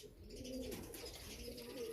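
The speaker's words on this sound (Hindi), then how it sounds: "ये पुराने कबूतर हैं भाई" Old domestic pigeons kept since the 1990s cooing steadily in soft low warbling phrases, close by with a constant busy background of other birds and no talking.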